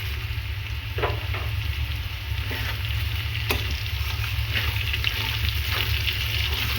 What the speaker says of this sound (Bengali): এখানে আমি ফোড়ন তেজপাতা দেবো শুকনো লঙ্কা দেবো দেবো একটু পাঁচ ফোড়ন আর একটু কালো জিরে